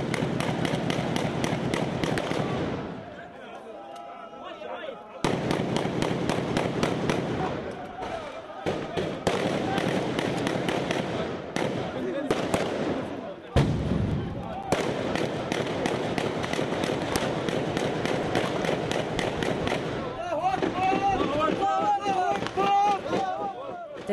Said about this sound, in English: taking it in turns, they fire one by one inside the house